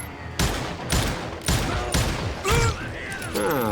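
Loud gunshots in the Western shooter Call of Juarez: Gunslinger ring out in a rapid, evenly spaced volley of about five blasts, then voices talk over the game audio.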